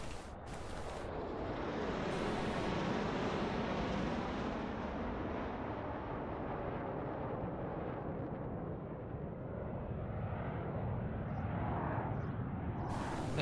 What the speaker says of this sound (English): those planes fly over, you hear a sound effect but nothing actually gets bombed